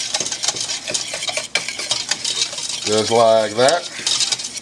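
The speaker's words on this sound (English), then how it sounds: "we're going to give the sugar and the cocoa and the salt a quick stir" Sugar, cocoa and salt get a quick stir in a pan, with a utensil scraping and clinking in short, busy strokes close by. A voice speaks briefly near the end.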